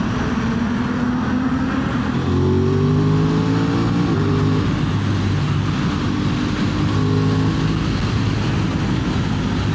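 An Aprilia RS 660 motorcycle revs inside a tunnel, its loud engine rising through several throttle blips with echoing reverberation and a steady, sustained roar between them.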